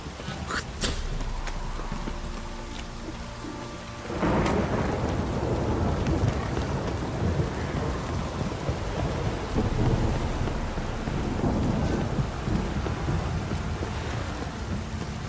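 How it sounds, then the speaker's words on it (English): Heavy rain pours steadily in The Witcher 3 while thunder rumbles and swells, the downpour dense and close throughout with a louder rolling surge partway in. "This downpour's a bastard."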